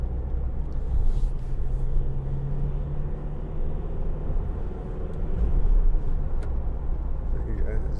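Ford Transit Custom 2.0 EcoBlue van engine heard from the cabin while driving, a steady low rumble that dips and rises around a gear change, with someone talking throughout.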